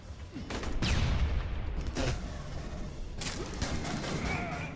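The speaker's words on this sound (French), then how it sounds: "Ah là, bah oui. Une grenade." A grenade blast and rattling gunfire in the sci-fi shooter game Aliens: Colonial Marines make a dense, loud, continuous roar of combat noise with several sharp bursts.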